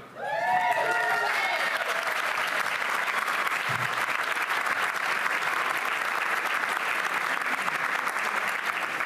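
Sustained applause at a public service awards ceremony, a large audience clapping steadily and loudly for about nine seconds, with a few cheers and whoops rising at the start.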